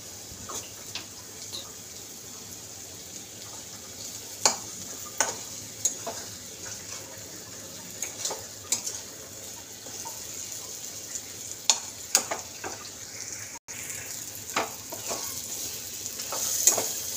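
Fish-curry masala being stirred and fried in a pan for a rohu-style jhol, a steady soft sizzle broken by repeated scraping strokes of a spoon, close and moderately quiet with no talking.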